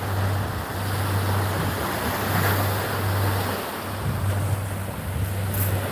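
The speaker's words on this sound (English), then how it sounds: "You can see inside those waves." Steady roar of ocean surf breaking continuously nearby at low tide in Key West, with wind buffeting the microphone and a low rumbling undertone throughout.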